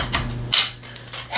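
Metal bars of a backdrop stand clank together during assembly: a sharp bright clatter near the middle, a few lighter taps around it and another knock at the end, all close and moderately loud over a low steady hum.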